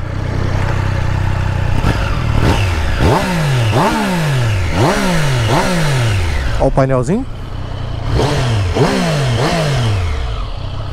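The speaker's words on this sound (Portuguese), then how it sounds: "Motorzinho 3 cilindros em linha." Triumph Street Triple 765 RS 2023 motorcycle with an inline three-cylinder engine, revved repeatedly from idle in quick rising-and-falling blips, loud and close, with a voice talking briefly over it.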